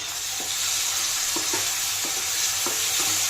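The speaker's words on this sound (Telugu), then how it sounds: "ఇప్పుడు మనం కట్ చేసి ఉంచుకున్న టొమాటోస్ కూడా వేసేద్దాం" Tomatoes going into onions frying in a pan for an egg and dried prawn curry: a steady hiss of sizzling oil with regular spatula stirs and scrapes, no voices.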